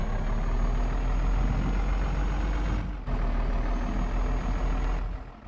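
A heavy truck in the Indian Truck Simulator video game turns with a constant loud engine drone and broadband air-brake hiss, broken by one brief dip in the middle before the rumble resumes.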